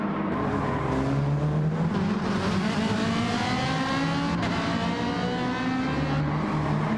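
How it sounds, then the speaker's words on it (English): A Ferrari race car engine in Gran Turismo 7 roars past while cresting a hill, loud and sustained with shifting revs and no voices, layered over the player's own car engine drone. "the Ferrari's just going to blast past us going over the crest of the hill here"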